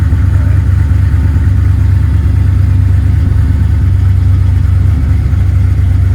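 A warm 383 LT1 V8 car engine idles at about 800 RPM with a loud, steady low rumble that holds even throughout, with no talk.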